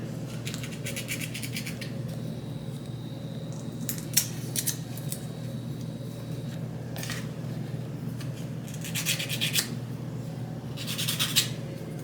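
Fingernails rasped with a nail file while preparing nails for polish strips, heard as several short bursts of scratchy strokes over a steady low room hum, fairly close and moderately loud.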